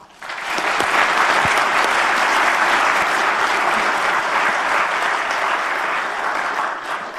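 A room full of conference attendees breaks into sustained, dense applause that swells quickly, holds steady for several seconds and tapers slightly at the end.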